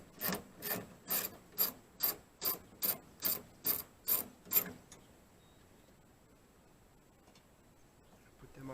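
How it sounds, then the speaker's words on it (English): Bolts on a 2003 Dodge Ram tailgate handle being backed out with a ratcheting tool: about a dozen steady, evenly spaced clicks for several seconds close by, then near silence. "now supposedly you just take these two bolts out"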